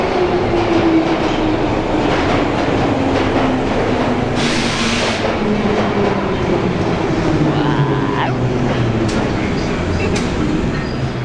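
A London Underground train rolls in loudly, wheels rattling and squealing with a descending whine, brakes hissing as it slows, filling the whole stretch.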